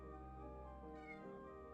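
Cat meows from a pixel-art video game, a few tonal game-sound calls sounding steadily over a constant background game soundtrack with no talking.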